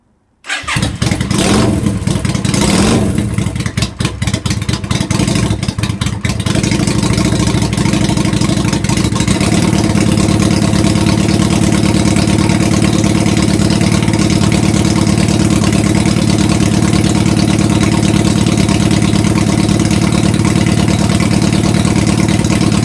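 A Yamaha Virago XV535 V-twin motorcycle, a rat bike just fitted with new coils after a misfire, cranks briefly and fires straight up, then settles into a loud, steady, even idle that runs uninterrupted for about twenty seconds.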